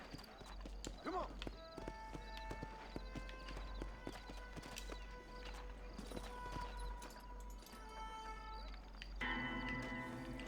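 Horse hooves clip-clop in a steady rhythm in the Red Dead Redemption video game, close and moderately loud, with a whinny early on and game ambience underneath.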